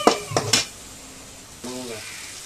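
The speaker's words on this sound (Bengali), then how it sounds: "একটু নেড়ে চেড়ে কষিয়ে নেব" Spice paste for a country chicken curry being stirred in a pan: a few sharp metallic clanks of a utensil up front, then a low steady sizzle, with a brief voice near the end.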